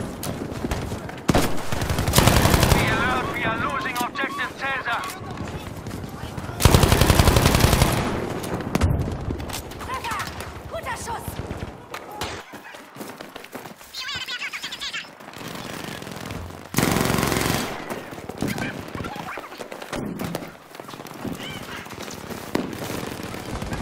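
Machine gun fire in a combat video game at the Al Marj Encampment, with repeated loud bursts of automatic fire and scattered shots over a busy background of battle noise that lasts throughout.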